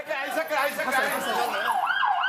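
A wailing ambulance siren during rescue work amid bombardment in Aleppo, Syria, rising and falling continuously and loud, with a busy, noisy background.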